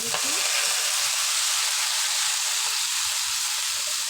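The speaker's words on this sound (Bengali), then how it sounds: "এখানে সবজি ভাজি করব" Vegetables frying in hot oil with onion, green chili, black cumin and bay leaf, a loud continuous sizzle and hiss throughout with a brief scrape at the start.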